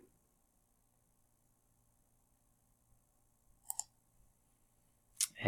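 Computer mouse clicks in a quiet room: a quick double click followed by another sharp click a moment later, crisp and close against near silence.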